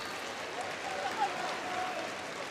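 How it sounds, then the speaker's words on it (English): Applause from a home crowd at the men's Hockey World Cup 2014 semi-final between Australia and Argentina in The Hague, a steady, fairly faint wash of clapping and crowd noise lasting throughout. "And applause from the locals for that being denied."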